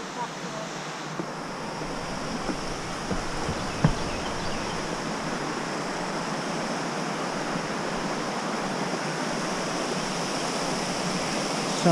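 Steady broadband rushing of a river flowing beneath a suspension bridge on the Foothills Trail fills the whole stretch, constant and fairly close, with no voices.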